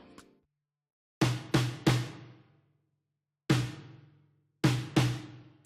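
A MIDI-triggered snare drum strikes six times alone: a quick run of three, a single hit, then a pair, each crack close, bright and loud, ringing briefly before silence.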